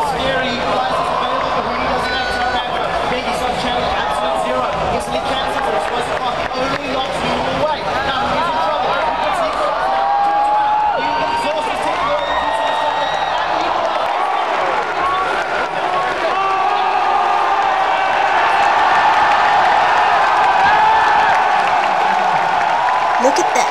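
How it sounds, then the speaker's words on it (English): A large crowd at the 2015 League of Legends Mid-Season Invitational esports event roars and cheers continuously, a dense wash of voices and shouts that swells louder toward the end. "the crowd was super into it"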